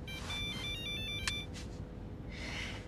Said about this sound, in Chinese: 房主来电话了。